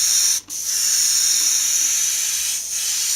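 Close, steady hiss of spray paint laying down flame designs on a black surface, one continuous spray with a brief break near the start and a slight dip later.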